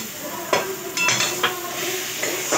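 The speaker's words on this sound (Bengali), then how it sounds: "এবার ম্যাগি মশলাটা দিয়ে একটু নেড়ে নিই।" Maggi noodle masala stirred in a pan for vegetarian Maggi noodles, with a few distinct scraping and clinking strokes of a utensil against the pan over a soft steady sizzle, close and moderately loud.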